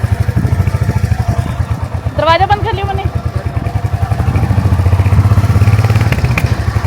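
A motorcycle ridden with a passenger, its engine thumping in a steady, close low pulse for the whole stretch and swelling louder near the end, while people talk over it.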